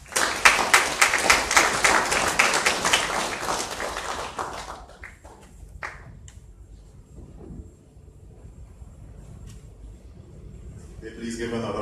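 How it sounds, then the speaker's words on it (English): An audience at the opening ceremony of the 5th International Garifuna Conference gives a round of rhythmic, fairly loud applause for about four seconds, which fades into a quieter room with scattered sounds and faint talk. "Please give another round of applause to all our delegates."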